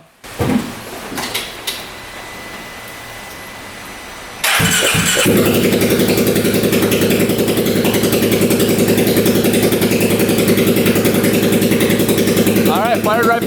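A UTV with its exhaust unhooked cranks briefly, then fires and settles into a loud, raw, steady running rumble, close by and alone for most of the stretch.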